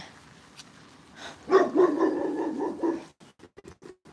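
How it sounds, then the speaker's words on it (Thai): A dog barks and whines in a short burst, fairly close, followed by a few quieter clicks and taps. "ได้ยินเสียงเขาเห่าตกใจเลย"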